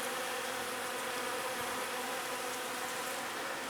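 Bees swarm around a flowering bush outdoors, producing a continuous, dense buzzing hum that stays steady and fairly close throughout, with no talking.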